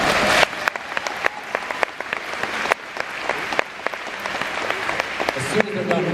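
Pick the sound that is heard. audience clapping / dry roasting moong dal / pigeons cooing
audience clapping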